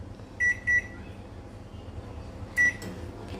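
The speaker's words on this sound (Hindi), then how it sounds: "तो अभी मैंने 2 मिनट के लिए इसको चला दिया है" A microwave oven set to boil potatoes for two minutes chirps two quick beeps, then a single beep later, over its low, steady running hum.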